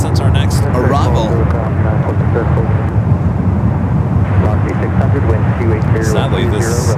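A United Boeing 757-200 arriving at San Francisco airport, a loud steady jet roar filling the whole stretch while someone talks over it.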